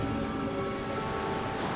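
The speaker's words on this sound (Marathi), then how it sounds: "आपण येऊन पोहोचलो लाडगड समुद्र किनाऱ्याजवळ" Ocean waves wash ashore at Ladghar beach in Dapoli, Ratnagiri, a quiet stretch of Konkan coast with reddish sand; a steady broadband surf roar with wind noise, continuous and without talk.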